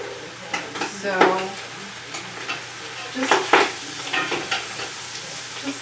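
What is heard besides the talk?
bacon frying and popping in a pan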